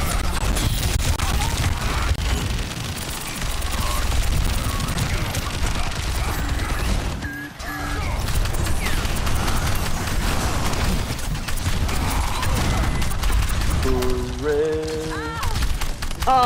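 Bastion in Overwatch 2 fires both weapons in dense, continuous bursts of gunfire and explosive booms, loud and chaotic throughout, with brief mechanical transformation sounds and a short lull midway.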